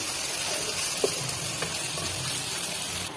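Chicken fries in a pan over a medium flame, a continuous close sizzle with a few small pops and a brief stirring knock.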